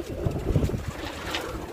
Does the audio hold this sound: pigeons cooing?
yes